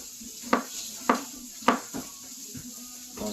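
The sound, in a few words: tossing a frying pan of mushrooms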